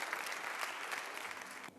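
Audience applause at the closing ceremony of a bar association congress in Luxembourg, a steady, fairly faint wash of clapping that thins out at the end.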